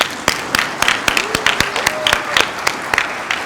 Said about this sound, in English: Please join me for one more round of applause.